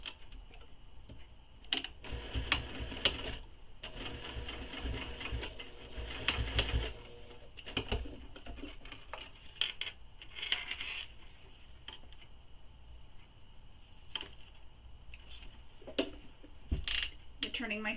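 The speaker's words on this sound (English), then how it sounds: "Now we're going to top stitch this." A sewing machine top-stitches a handmade bag, a quiet mechanical run of rapid ticking and whirring in bursts with short pauses between them.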